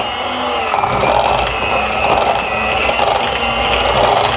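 Sugar being beaten for coconut cake batter gives a loud, steady motorised whirring and churning up close, continuous throughout with slight pulsing.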